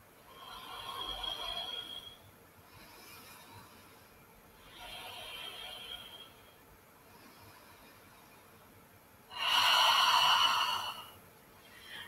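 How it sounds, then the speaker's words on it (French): Slow, deep breaths during a yoga exercise, soft airy inhales and exhales recurring every few seconds in a quiet room, with one louder, fuller breath near the end. "On inspire profondément, on expire."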